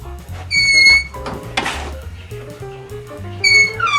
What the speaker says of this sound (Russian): показывай, как скрипят двери